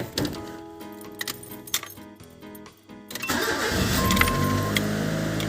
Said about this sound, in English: so we'll just crank this thing on here